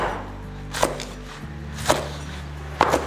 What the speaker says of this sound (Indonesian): ini daun bawangnya kita potong-potong aja